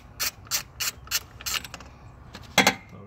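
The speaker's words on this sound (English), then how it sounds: "loosening that 10 millimeter nut" Ratchet wrench loosening a 10 mm nut near the vacuum line and heater hose in a car engine bay, giving a series of five or six quick, close, rhythmic clicks followed by a louder double clack.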